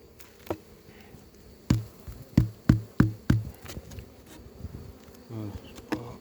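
Honeybees hum faintly around an opened hive colony during a spring inspection, a soft buzz broken by several sharp knocks and taps of handling the wooden frames and box.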